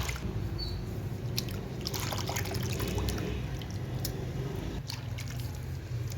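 Clothes are washed by hand in a large bucket of water, with steady sloshing, dripping and trickling throughout at a modest level.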